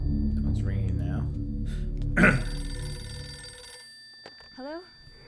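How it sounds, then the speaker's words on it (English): An old-style telephone bell rings in the horror video game Eternal Darkness, a bright metallic ring over a low droning game ambience, followed by quieter sparse sounds. "Someone's ringing now."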